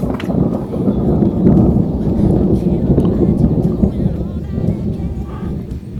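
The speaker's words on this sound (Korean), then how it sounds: "계속 우르르 쾅쾅해요." Thunder rumbles on a mountain ridge in summer, a low, continuous rolling boom that stays loud and steady throughout, with no clear separate cracks.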